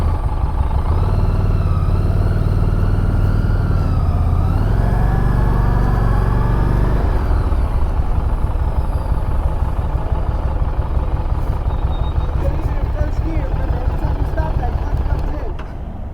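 A motorcycle engine runs with a low throttle drone that rises and shifts pitch midway and then settles into a rougher idle as the rider works throttle, brake and clutch, with an instructor talking over it.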